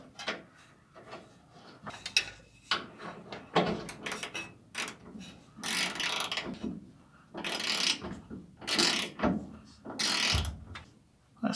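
A ratchet turns a nut onto a Bilstein 4600 shock stud on a Ford F-150, producing repeated bursts of clicking and metallic rasping strokes separated by brief pauses, fairly close and moderately loud.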